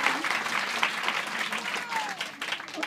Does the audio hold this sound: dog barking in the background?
no